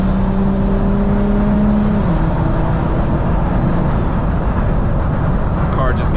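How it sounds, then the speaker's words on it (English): A BMW 335i fitted with a big turbo and a 3.5-inch exhaust accelerates hard, its loud, steady engine drone filling the cabin, with the tone shifting partway through and a rising whine near the end. "Car just gets up in speed so easily"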